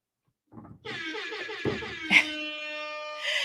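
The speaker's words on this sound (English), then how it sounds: "where's my air horn?" A blaring horn sounds in a long sustained blast after a brief rumble and clatter, followed by another short honk at the end.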